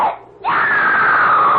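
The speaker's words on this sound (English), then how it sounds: "Someone screamed." A woman's scream in a CBS Radio Mystery Theater drama, a brief cry cutting off then a loud, sustained, high-pitched shriek held to the end, close and alone.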